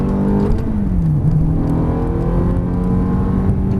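A Ferrari F430 accelerates hard on the Circuit de Trappes, its loud, close engine drone climbing steadily in pitch with no break and no voices.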